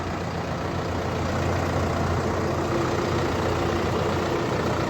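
A Solis 105 four-wheel-drive tractor of 105 horsepower idling during loading, a steady low diesel rumble that stays even and unbroken throughout, close and alone with no voices.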